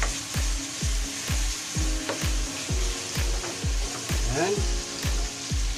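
Tomatoes cooking down in a pan for sarsyadong sapsap, a soft sizzle under repeated rhythmic scraping and stirring strokes close by, with a brief spoken word partway through.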